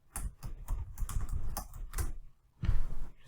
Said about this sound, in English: Now let's type my message.